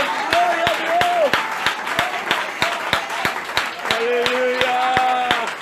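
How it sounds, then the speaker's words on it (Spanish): A church congregation claps in applause to the Lord during a worship service, sharp rhythmic claps in a steady beat over sustained music with voices singing or calling out. "Denle fuerte ese aplauso al Señor."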